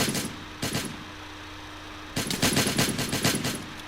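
AK-47 bursts in the Counter Craft Minecraft mod: two short clipped volleys, a pause, then a longer rapid string of synthetic shots, steady and mid-loud over a low game hum.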